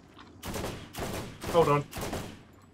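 Gunfire aimed at another player in the video game Borderlands, heard as four short, evenly spaced bursts of shooting, with a brief spoken remark among them.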